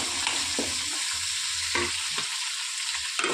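Curry leaves, onions and green chillies fry in a pan with a steady close sizzle, broken by several quick scraping stirs at irregular moments.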